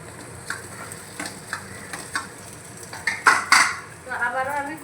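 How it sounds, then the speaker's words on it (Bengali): Fried potatoes tumble into a pan of masala ground with coconut and poppy seed paste for a potol chingri dish, a steady low sizzle under scattered clinks and scrapes of a metal spoon, growing busier near the end with a voice briefly heard. "তো এবার আমি ভেজে রাখা আলুগুলো দিয়ে দেব।"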